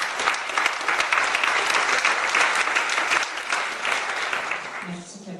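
Conference audience applauds a speaker with dense, sustained clapping from many hands in a hall, steady and loud before tapering off at the end, with a voice briefly underneath.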